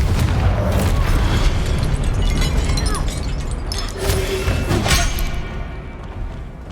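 Confringo explosive spell blasts in Hogwarts Legacy fight, loud booming detonations layered amid constant battle noise, with sharp cracks and thuds around the middle and a fading rumble toward the end.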